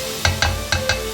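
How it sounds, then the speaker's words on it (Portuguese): Tomato and carrot sautéing in a pan for a bean cassoulet, a steady sizzle with four quick scraping stirs spaced evenly, close and fairly loud. "Agora vou acrescentar o tomate e a cenoura, refogando mais uns minutinhos."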